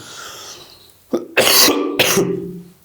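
Two harsh coughs close to the mic, the second following shortly after the first, with a quiet room hush before them.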